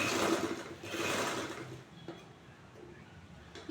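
Sewing machine stitching a blouse seam to the end of the fabric, a soft steady whir at close range that surges briefly twice and then fades to a quieter hum with faint clicks.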